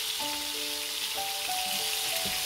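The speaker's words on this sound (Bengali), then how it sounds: "টমেটো এবং রসুনগুলো 5 থেকে 6 মিনিট এভাবে ভেজে নিব" Tomatoes and garlic fry in a pan with a steady hissing sizzle, close and constant, while a few faint tonal beeps ring over it.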